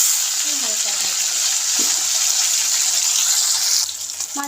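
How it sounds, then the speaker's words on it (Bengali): Hilsa fish pieces fry lightly in hot oil with a loud, steady, close sizzle and hiss, broken by a few faint clinks, and the sizzle eases slightly near the end. "মাছ ভাজা হয়ে গেছে, এবার আমি তুলে দেবো।"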